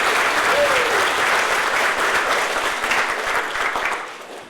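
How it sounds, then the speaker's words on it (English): A sustained round of applause for staff Service Award and Service Pin winners at a college employee awards ceremony, dense and loud from start to finish before easing slightly at the very end. "let's give one more round of applause to all of the Service Award winners"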